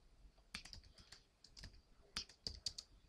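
Quiet clicks of keys on a computer keyboard come in short irregular bursts of typing with brief pauses, close and soft, with no voice.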